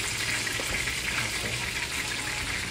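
Pompano fish fries in oil in a pan over low heat, giving a steady, dense hiss and crackle that holds evenly throughout at moderate loudness, with a brief spoken word.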